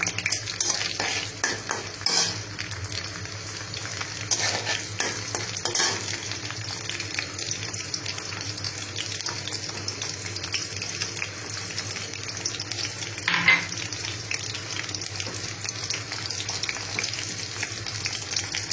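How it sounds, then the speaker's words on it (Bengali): Lentil dumplings (bori) fry in hot oil with a steady crackling sizzle, while occasional stirring scrapes and clatters sound close by throughout. "আর তার আগে এখানে আমি বড়িগুলোকে ভেজে নেব।"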